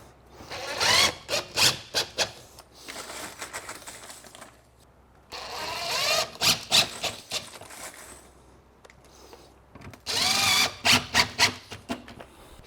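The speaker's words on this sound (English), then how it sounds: "Just take a couple of the screws and just screw it right into the subfloor." A power drill drives screws into a subfloor in three separate whirring bursts, each a few seconds long with quiet gaps between them, heard up close and alone.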